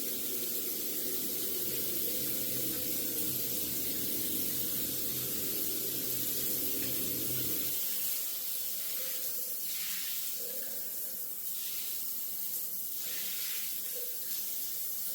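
Water runs from a faucet into a brushed gold epoxy vanity top sink, a steady hissing splash that shifts partway through to a thinner, lighter trickle.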